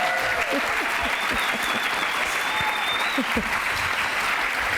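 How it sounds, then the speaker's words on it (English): An audience at a Hispanic Heritage Month cultural event applauds dance performers with steady, full clapping, some sharper individual claps and a faint whistle or cheer rising above the crowd. "Let's give another round of applause to all of our wonderful dance performers today."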